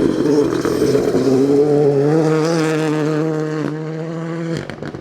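A rally car on the Gale Rigg forest stage accelerates past after a stall, its engine note rising through a loud, climbing rev with gear-change breaks, close and then cut off sharply near the end.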